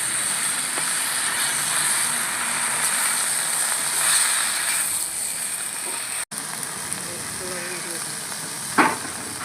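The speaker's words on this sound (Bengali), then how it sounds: "সামান্য লবণ দিয়ে শাকটাকে নাড়িয়ে চাড়িয়ে ভালো করে ভেজে নেব" Leafy greens with a little salt are stirred and fried in a pan, making a loud, continuous close sizzle that briefly drops out, then returns with a sharp clink near the end.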